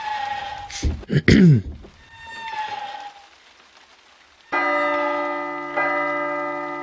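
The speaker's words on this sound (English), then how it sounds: "Okay, there's the chimes." Chimes in a spooky video game ring out twice after a few soft thumps, each strike loud and sustained, with bright overtones fading slowly and no talk.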